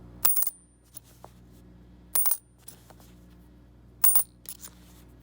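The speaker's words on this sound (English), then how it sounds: "Here's the sound a clad quarter makes when it's dropped on another clad quarter." Clad quarter coin dropped onto another clad quarter, three separate bright metallic clinks with short bouncing rattles, each about two seconds apart, close and fairly quiet in a still room.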